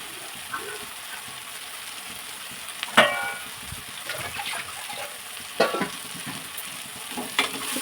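Beetroot is fried in oil in a pan over low heat, giving a soft close sizzle with occasional stirring scrapes and clinks of a utensil.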